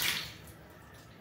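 Water rushing from a shower head just opened on a household pipeline, a steady hiss that is loudest in the first moment and then settles into a softer continuous flow.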